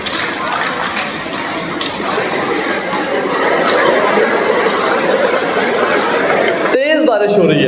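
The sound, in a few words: audience imitating rain with their hands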